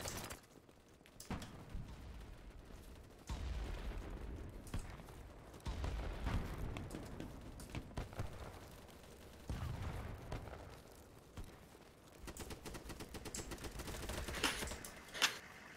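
Video game gunfire fired into a dragged dead body: scattered bursts of shots and cracks repeating over about fifteen seconds, fairly quiet and distant, with faint background game noise between the volleys.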